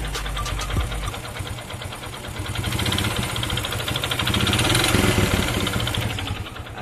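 Honda C series motorcycle engine idling with a worn connecting rod, giving a steady close mechanical clatter and rapid ticking knock over the engine hum, rising slightly midway.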